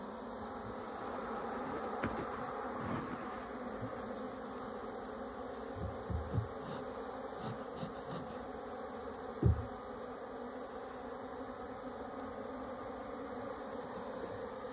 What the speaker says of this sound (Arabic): كما نلاحظ حركة النحل سريعة